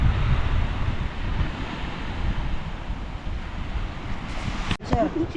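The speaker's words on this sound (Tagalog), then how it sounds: "Tapos sa gilid mo, dagat." Steady broadband wash of sea surf rolling onto the shore at Jomalig, Quezon province, with wind rumbling across the microphone and a brief clatter near the end.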